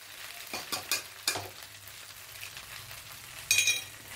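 Leftover cooked rice with masala and coriander is stirred in a pan over a low sizzle, with a few scraping spoon strokes, a louder final burst of scraping near the end, and no talking.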